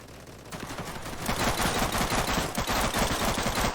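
Rapid, continuous automatic gunfire from the military shooter game Operation: Harsh Doorstop, a dense, loud rattle of shots that swells slightly and holds steady throughout, with no talking.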